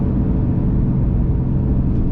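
A truck engine holding about 2,500 RPM in fourth gear while towing a trailer at highway speed, a loud, steady low rumble with road and wind noise that stays even from start to finish.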